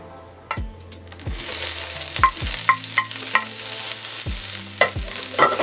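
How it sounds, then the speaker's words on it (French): Onions and olives frying in hot oil, a steady sizzle broken by repeated stirring knocks and clatters of utensil against pan, close and fairly loud with no talk. "une fois que l'huile est chaude, on va y insérer les oignons"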